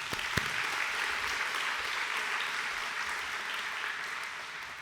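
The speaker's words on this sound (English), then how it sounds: "Give everyone a round of applause." Audience applause fills the room at the 2026 Impact Awards ceremony, a dense, steady wash of clapping from a large crowd that holds for about five seconds with no talk over it.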